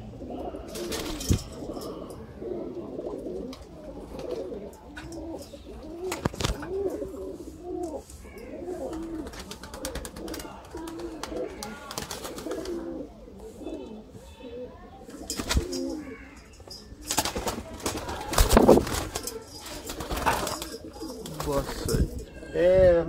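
Teddy pigeons coo repeatedly in soft, throaty bursts, with occasional chirps and wing flaps, while people talk in the background.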